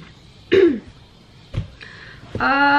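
A person coughs and clears their throat in two or three short, close bursts, and a voiced sound follows at the end.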